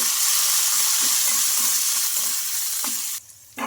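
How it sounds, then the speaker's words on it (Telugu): Green chillies fry in hot oil in a pan during Telugu home cooking, giving a steady close sizzle with soft stirring clinks that briefly drops away near the end. "ఇంకా మనకు మిర్చి బాగా ఫ్రై అయిపోయింది కదా"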